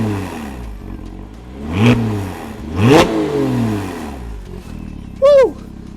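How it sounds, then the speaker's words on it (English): A 2005-2008 Porsche Cayman 987 with a Designtek sports exhaust, valves open, revs hard several times, with two loud swelling blips standing out, then a short high squeal near the end. "I want the exhaust to be heard by your mic."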